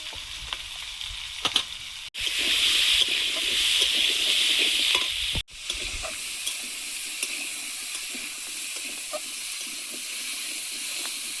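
Potato and pumpkin chunks with bay leaf and salt fry in a pan, giving a loud steady sizzle and hiss with occasional stirring clinks, briefly interrupted by two abrupt cuts before settling into a quieter sizzle.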